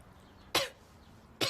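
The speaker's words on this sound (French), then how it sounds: "J'ai juste toussé, là, désolée." Two sharp coughs from a woman, one a little past the start and another near the end, each short and close against a quiet room.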